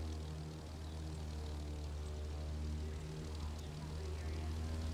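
Airplane engine in the racing video game The Crew 2, a steady droning propeller hum held at constant loudness throughout, loud and continuous.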